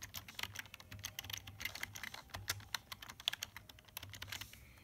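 Fast, irregular keystrokes on a computer keyboard as a name is typed into a game's entry screen, a continuous patter of close, quiet clicks with no voices.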